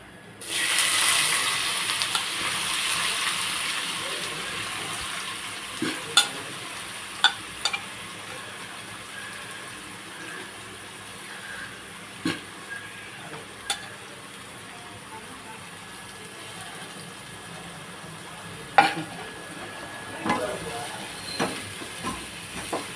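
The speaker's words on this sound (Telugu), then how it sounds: "ఉల్లిపాయలు వేసుకుంటున్నా" Onions sizzling in hot oil in a pan, a steady broad hiss with occasional sharp clicks and clinks of a spoon against the pan.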